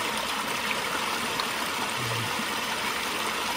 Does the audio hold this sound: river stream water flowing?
yes